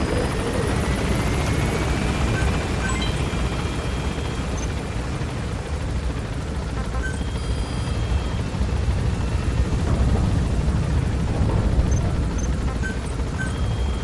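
Helicopter climbing in the video game Metal Gear Solid V: The Phantom Pain, a loud, steady rotor roar and engine rumble filling the whole stretch without talk.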